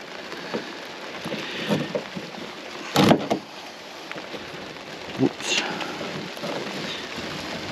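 Heavy rain pours down on a boat out among mangroves during a crabbing trip, a dense constant patter broken by a few sharper knocks and splashes.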